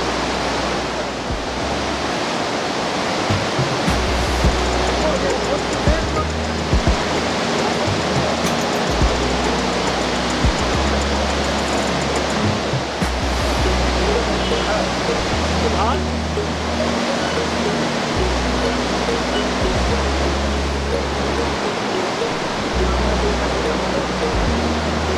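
Kunhar River at Balakot in Pakistan's Kaghan Valley, a continuous loud rushing roar of flowing water that stays steady throughout, with a low rumble underneath.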